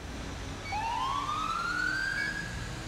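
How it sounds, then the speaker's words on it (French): A two-tone private ambulance siren from GTA 5 rises in pitch and holds steady, starting after a brief pause and sounding clear and fairly loud over low traffic rumble, with no one talking. "Celui que je préfère, c'est quand même le Deux-Tons ambulance privée."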